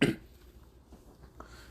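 A single short, fairly close cough from a man at the very start, followed by near silence with only faint room noise.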